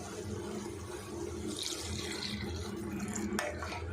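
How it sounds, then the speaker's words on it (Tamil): Water poured into okra kara kuzhambu masala for a Chettinad-style lady's finger curry, a steady close splashing pour running throughout with a brief sharper splash near the end. "இது போல் தேவையான அளவுக்கு நம்ம தண்ணி ஆட் பண்ணிக்கலாம்"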